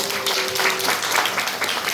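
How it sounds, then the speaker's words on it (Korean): Audience applause welcoming a guest at a summer outing event, a continuous wash of many people clapping, fairly loud and even throughout with a faint tone underneath. "여러분들 큰 박수와 함께 환영해 주시기 바랍니다"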